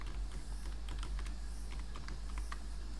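Quiet, steady typing on a computer keyboard, a run of soft irregular key clicks over a low constant hum, with no voices.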